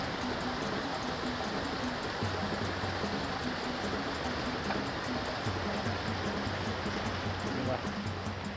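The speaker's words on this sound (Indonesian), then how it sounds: "Lokasi kita mancing, sungainya nampak jernih teman." A clear river at a fishing spot rushes steadily as a continuous broadband wash of flowing water, with a voice speaking faintly underneath at times.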